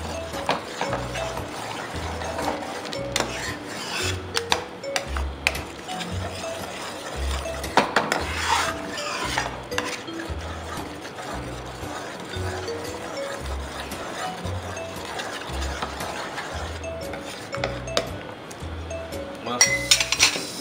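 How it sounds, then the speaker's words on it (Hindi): Quick stirring of tomato lemon coriander soup with a spoon in a pot, giving repeated light metallic clinks and scrapes in a steady rhythm, with soft kitchen background noise throughout. "हम एक चम्मच में ऐसे लेके इसको ऐसे फैला के उसको तेज तेज घुमाना चालू कर देंगे ताकि इसमें लम्स ना पड़ जाए।"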